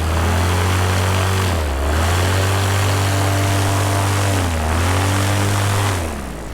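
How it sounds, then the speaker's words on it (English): Light aircraft engine run-up with a Helix propeller, a loud, close, steady propeller drone that dips twice in pitch before recovering, easing slightly at the end. "Do an engine run up."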